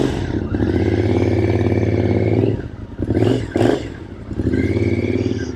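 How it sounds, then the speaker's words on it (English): A 2006 Triumph Scrambler 900's carbureted 865cc parallel-twin, 270-degree crank engine idles with a steady throb, then blips the throttle in two quick revs before settling back to a rumbling idle, close by. "It's a carbureted motorcycle, and we're going to take that hot rod for a ride."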